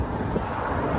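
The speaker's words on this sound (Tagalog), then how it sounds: "Lakas ng hangin. Parang akong tinutulak." Strong wind buffets the microphone outdoors in a small town, a steady loud roar of rushing air with low rumbling gusts throughout, and no voices.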